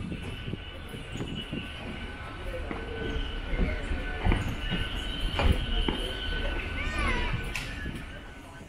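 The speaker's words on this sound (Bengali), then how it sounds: "8:05 মেদিনীপুর লোকাল এখন ছুটে চলেছে হাওড়া থেকে খিরাইয়ের দিকে" A Medinipur local train runs from Howrah toward Khirai, its steady rumble and rattling wagons loud and close throughout, with occasional wheel squeals and clanks rising over the noise.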